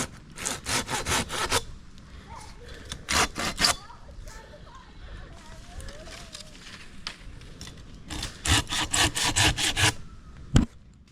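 Hand saw cutting dead branches from a Norway maple, heard in three bursts of rapid back-and-forth strokes with quiet rustling between them, close and fairly loud.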